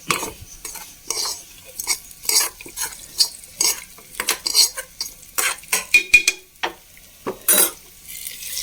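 Roasted grated coconut being stirred into a jackfruit erissery curry with a spoon scraping a pot, a steady run of close scrapes and clinks with faint sizzling underneath, no voices.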